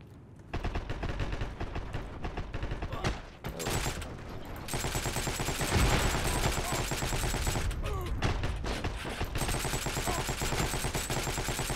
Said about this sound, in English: That was a lot of shooting.